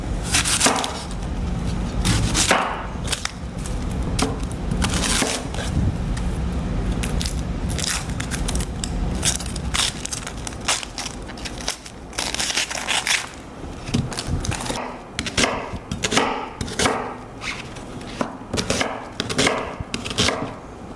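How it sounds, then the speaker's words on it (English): Knife roughly chopping an onion on a board while preparing homemade kimchi, a steady run of loud, close crunching chops, fast and uneven, with no talking. "I'm just going to roughly chop this onion."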